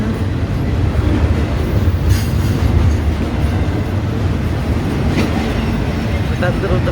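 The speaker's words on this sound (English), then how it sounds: "There's the end." Tail end of a long freight train rolling past a crossing at Westmont, Illinois, a loud, close, continuous rumble of rail cars with rhythmic wheel clatter.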